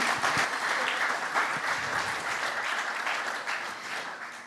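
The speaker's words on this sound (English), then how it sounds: "We'll have a round of applause, please." An audience at a captains' forum panel event applauds steadily, a dense, sustained wash of clapping heard alone that gradually tapers off.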